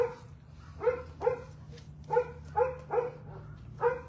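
A Pomeranian barks in short bursts, about seven sharp barks spaced unevenly over a few seconds, close by, with a low hum underneath.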